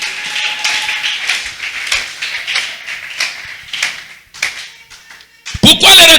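Congregation in a church applauding, a dense run of claps near and loud over several seconds, thinning toward the end as a voice cuts in.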